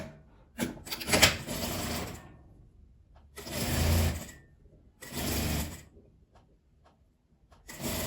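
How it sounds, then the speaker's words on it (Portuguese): A sewing machine stitches a seam along folded fabric for a small multipurpose pouch, running in three or four bursts of whirring needle chatter separated by quiet pauses, close and moderately loud. "Aqui eu vou passar uma costura de um lado e do outro."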